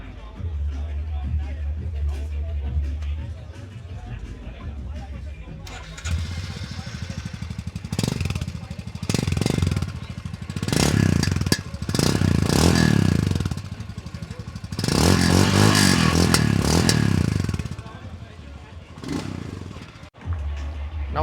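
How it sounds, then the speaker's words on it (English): A Royal Enfield Scram 440 motorcycle engine starts and idles, then revs up several times in loud bursts of exhaust roar before settling back to a rumble. "we'll fire this baby up now for you to listen to the exhaust sound of this machine"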